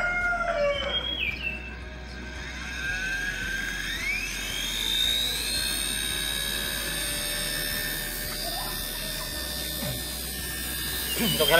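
Small electric rotor of an XK K110 six-channel micro RC helicopter whining steadily at high pitch, rising and falling as it hovers nearby, continuous for the whole stretch.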